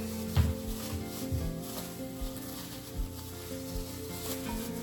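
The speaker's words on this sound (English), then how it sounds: "I love the smell of garlic when it is cooking" Garlic cooking in a pan gives a quiet, steady sizzle close by, with a few soft low knocks scattered through it and no speech.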